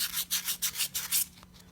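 Hand sanding of a small stubby part with sandpaper: about seven quick, rhythmic rubbing strokes, a scratchy back-and-forth hiss close to the mic, with a faint steady hum beneath and no voices.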